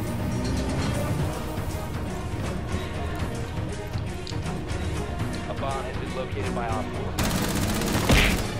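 Rapid bursts of gunfire in the video game Rainbow Six Siege come as a dense, sustained fusillade, loud and close. Game sounds layer over it, and voices are heard throughout.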